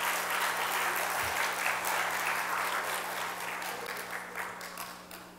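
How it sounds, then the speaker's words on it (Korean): A church congregation at a Sunday service applauds steadily, the dense clapping fading slightly toward the end over a low hum. "박수로 한번 격려하겠습니다."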